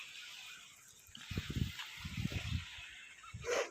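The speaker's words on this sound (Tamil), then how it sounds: "நல்லா கொதி வந்துடுச்சு" Water comes to a boil in a pot for chicken biryani, with low bubbling bursts that grow busier over a couple of seconds under a steady hiss.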